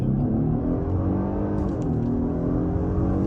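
A 2023 Genesis G90 accelerates hard in sport mode, its engine giving a close, steady, rising hum over a few seconds with no one speaking.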